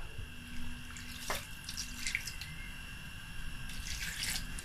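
Water poured into a pot of Nigerian egusi soup cooking with goat meat and crayfish, a short steady splashing pour alone with no talk.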